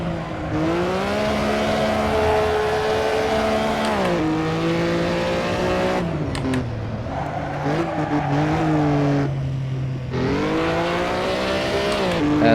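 Brabham BT24 race car in Assetto Corsa at the 1957 Nürburgring, its engine droning loud and steady through gear changes, pitch rising and falling with brief drops around shifts; no talk.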